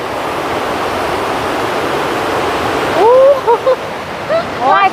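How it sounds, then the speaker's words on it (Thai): Steady broadband rush of a waterfall at a reservoir dam along a mountain trail, constant throughout, with a person's voice cutting in over the water noise in the final two seconds. "เสียงน้ำตก"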